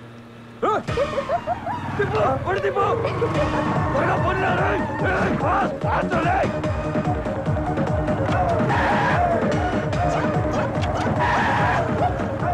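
A vehicle brakes hard on a city back street, tires skidding and squealing in repeated sharp bursts, loud and close, while engine noise and people talking continue over it.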